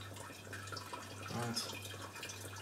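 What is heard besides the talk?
pouring hot water over grain bag for brewing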